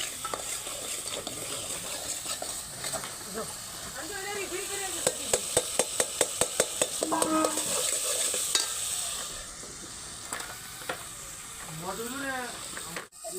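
Oil sizzles and hisses steadily in a pan as spice tempering fries, while a spoon clicks rapidly against it in stirring; a person talks over the frying.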